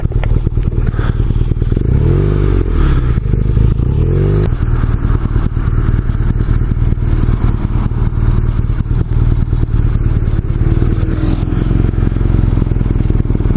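A BMW R nineT Cafe Racer motorcycle engine running at low revs, a steady loud rumble with a slight wobbling throb near the start.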